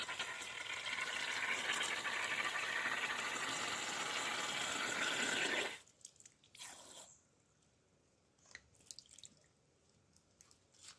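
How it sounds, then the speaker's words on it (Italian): Water pours steadily into a glass bottle for several seconds, a loud hissing, rushing fill that stops abruptly. A few soft drips and small clinks follow in near quiet. "occorre una bottiglia di vetro che andremo a riempire d'acqua"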